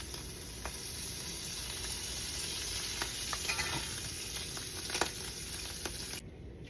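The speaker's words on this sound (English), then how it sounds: "I'm going to put some bacon in the other frying pan so I can get the drippings for the beans." Bacon sizzles steadily in oil in a frying pan, a close, continuous crackling hiss with scattered small pops, fairly quiet and without talk.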